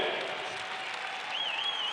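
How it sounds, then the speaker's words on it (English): Sustained applause from the home crowd at a 1995 Class B high school basketball semifinal in a gym, a steady dense wash of clapping with a faint whistle-like tone riding over it late on. "Jim Sanford giving them an opportunity for the Lakeshore faithful to applaud them for the final time in a Lakeshore uniform"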